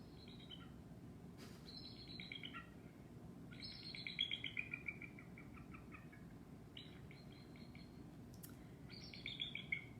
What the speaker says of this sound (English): I'm going to play a bald eagle's call